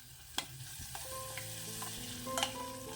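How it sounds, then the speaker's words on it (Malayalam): Mint leaves and a little coriander stirred into tomato kurma frying in a pan, with soft scraping strokes and faint sizzle, a few clinks of the spoon against the pan and a louder knock at the end. "നല്ലവണ്ണം ഒന്ന് ഇളക്കി കൊടുത്താൽ മതി. ഇലയൊന്ന് വാടി കിട്ടിയാൽ മതി."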